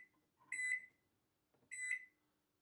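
An Anko microwave keypad gives two short, bright electronic beeps about a second apart, close and clear in a quiet kitchen, while a timer is being set.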